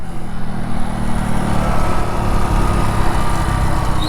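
A motorcycle engine drones loud and close while the bike is ridden, a steady buzzing hum with a slight shift in pitch partway through.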